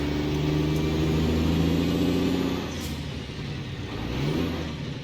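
A Mack Superliner truck engine in American Truck Simulator drones loudly at a steady rev, then drops in pitch during a gear change partway through before building again, with a brief hiss of air.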